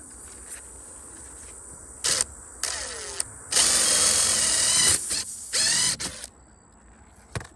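Power drill boring a drill bit into a tire tread to open a hole for a plug: several short whirring bursts of varying length, close and fairly loud, separated by quiet pauses, with no talking.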